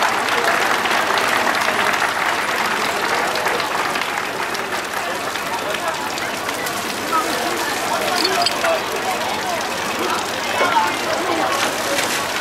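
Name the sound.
applause for the firefighters at the exercise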